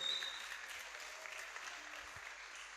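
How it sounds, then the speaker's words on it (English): Steady applause from a crowd at a kindergarten graduation, moderately distant and even, continuing throughout without voices. "Can I have a round of applause for all the teachers"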